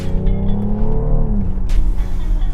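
A 2018 BMW X3 M40i SUV accelerates hard in sport mode, its engine note loud and close, rising steadily and filling the whole stretch with no one speaking.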